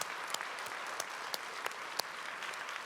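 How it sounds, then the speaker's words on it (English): Audience applause for conference staff at the ARVO 2024 closing keynote, a steady wash of many hands clapping throughout at moderate level, with a few sharper individual claps standing out. "I'd like to give a round of applause to the ARVO staff for"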